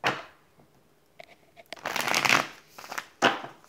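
Tarot cards being shuffled and drawn, with a short riffle, a pause, then a longer close, crisp shuffle and a final sharp flick of a card, no talking.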